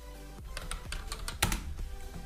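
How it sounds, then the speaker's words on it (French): Someone types on a computer keyboard to run a web search, a quick, close run of clicking keystrokes with one harder tap partway through. "Je tape sur Google"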